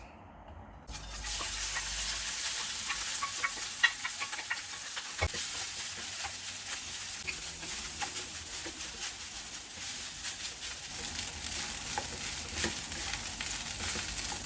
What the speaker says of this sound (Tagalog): Pag mainit na yung mantika, pwede natin lagay yung rice.